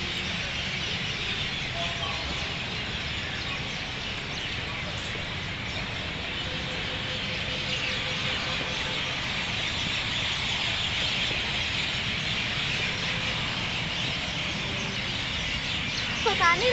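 Many birds call together in a constant dense chorus as they return to roost in the evening. The chattering stays fairly distant and even throughout.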